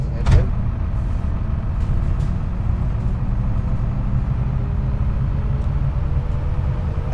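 Heuliez Access bus engine in the OMSI 2 bus simulator, heard with the window open as a steady, loud, low engine drone that holds constant throughout, with a brief knock near the start.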